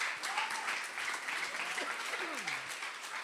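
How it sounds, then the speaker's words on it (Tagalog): A church congregation claps and cheers, steady mid-distance applause with a few voices rising over it, fairly quiet overall. "palakpak ang inyong dalawang kamay ng napakalakas"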